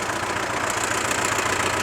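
A tractor engine runs rough and misfires, a close, steady idling rumble with an uneven knocking beat underneath.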